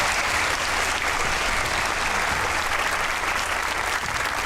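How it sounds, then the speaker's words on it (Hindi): A studio audience at a comedy talk show gives loud, dense, sustained applause, a continuous wash of many hands clapping at once with no pauses. "ताली होनी चाहिए गिलानी साहब की"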